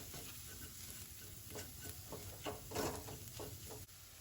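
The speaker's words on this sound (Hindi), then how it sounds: "मसालों को अच्छे से भून लेंगे हम आधा मिनट।" Garam masala and salt being stir-fried in a pan for palak matar, a steady soft sizzle with repeated scraping stir strokes, close and moderately quiet throughout.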